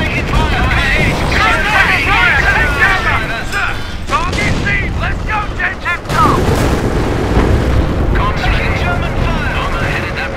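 Artillery barrage in Company of Heroes, set in 1944 Caen: dense, continuous booms and crackling explosions fill the whole stretch, loud and close, with radio chatter and shouted voices running underneath.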